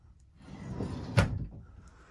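A mirrored sliding closet door in a 2021 Sabre 36BHQ bunkhouse travel trailer rolls along its track, a soft rumbling slide ending in a single close thump, heard alone.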